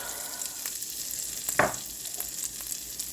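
Garlic and spices frying in melted butter in a pan, a steady, moderately quiet sizzle with one sharper crackle and scrape partway through, no talking.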